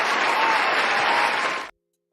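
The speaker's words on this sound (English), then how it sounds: "that deserves a round of applause" A studio audience breaks into a steady round of applause during a talk show interview with an author, dense clapping holding for well over a second before cutting off abruptly.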